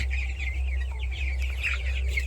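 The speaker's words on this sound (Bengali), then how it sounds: "এই দেখো মুরগির বাচ্চাগুলো।" Nineteen-day-old chicken chicks cheep and cluck steadily in a busy chorus, close by, over a low constant hum.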